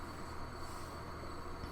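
A train rolls through in the Transport Fever 2 UK setting, with a steady, close rumble of wheels on rails, a faint high whine above it and no pauses, running as one continuous sound.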